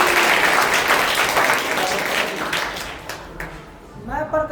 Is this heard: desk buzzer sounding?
no